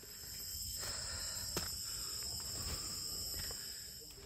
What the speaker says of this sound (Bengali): প্রায় পুরো রাস্তা জুড়েই ছিল ঝিঝি পোকার এক মনোমুগ্ধকর